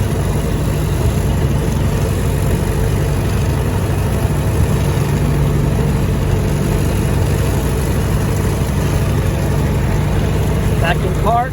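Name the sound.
1923 Ford Model T engine while coasting and braking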